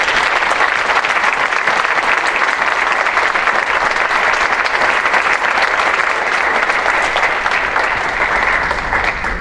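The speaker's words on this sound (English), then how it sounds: "Let's give them one final round of applause" Sustained, dense audience applause at a college alumni awards assembly, honoring award recipients; steady and loud throughout with no pauses, filling a large room.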